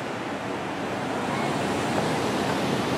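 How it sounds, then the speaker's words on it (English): Stormy ocean surf rolling onto the beach the day after storms, a steady full roar of breaking waves mixed with wind, loud and continuous with no voices. "The ocean is a little bit angry today."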